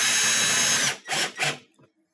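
Power drill driving screws back into a KitchenAid/Whirlpool dishwasher: one longer whirring run followed by two short bursts as the screw seats, then silence.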